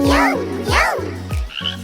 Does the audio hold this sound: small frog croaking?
yes